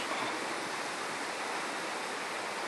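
Sewage water pours into the Seyhan River in Adana as a steady, dense rushing roar, like a small waterfall, loud and unbroken throughout, with no talk.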